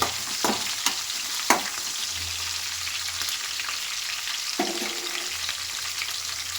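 Slit green chillies frying in hot oil in a pan for South Indian lemon rice, a steady low sizzle with a few sharp clicks and scrapes of stirring, with no voices.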